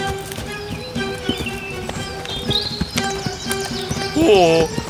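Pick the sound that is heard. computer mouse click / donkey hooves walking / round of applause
donkey hooves walking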